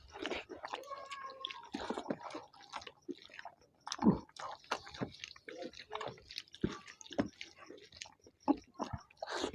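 Quiet, close chewing of rice with omelette curry, dal and a radish dish: soft wet mouth sounds, small bites and squishes going on steadily, with faint background clatter.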